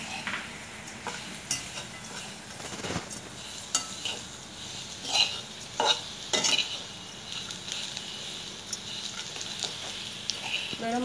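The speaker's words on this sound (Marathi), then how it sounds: "कांदा आता चांगला भाजत आलेला आहे, तेव्हा आपण हा अख्खा गरम मसाला घेतला होता तो टाकूया" Whole garam masala and onions sizzle as they roast in a pan, with a steady frying hiss and occasional scrapes and taps of a spoon stirring, close by.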